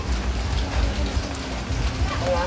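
Rain patters steadily at a street food stall in Quiapo, Manila, a dense close hiss of drops on surfaces with soft thumps, while voices chat faintly underneath.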